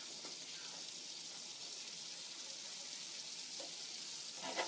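Sauce simmering and reducing in a pan for spaghetti with baby spinach and blistered tomatoes, a faint, even hiss of gentle bubbling that holds steady, with a small clink near the end.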